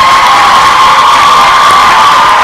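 Loud, dense cheering and whooping from a large crowd honouring parents at an induction ceremony for newly qualified medical and dental practitioners, a steady roar with high shouts that fills the whole stretch.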